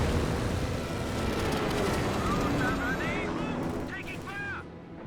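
A rocket barrage in the strategy game Company of Heroes, a dense, continuous roar of overlapping blasts and rushing noise with whistling streaks near the end, heard under a commentator's talk.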